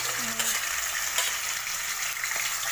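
Sesame seeds sizzle and crackle in hot oil in a pan while fish fry is prepared, a steady close hiss with faint stirring scrapes.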